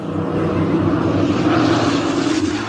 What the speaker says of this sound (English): It's a plane. I hope it's one of ours.